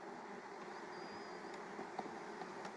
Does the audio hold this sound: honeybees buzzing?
yes